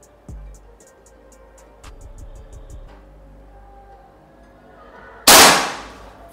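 A single sharp, loud crack comes from a PCP Pasopati Big Game 4000 psi air rifle fired outdoors. It follows a few seconds of faint background clinks and thumps.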